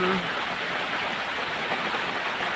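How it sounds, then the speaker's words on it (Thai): Rain falls in a steady, close hiss of dense drops, an even, unbroken wash of sound with no distinct individual patters. "ฝนตกแล้ว"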